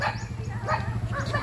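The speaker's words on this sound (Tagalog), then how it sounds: "Away-away na yung mga aso namin." Several dogs on a village street bark, yip and snarl while fighting, giving short overlapping yelps and growls close by in a quick, agitated burst.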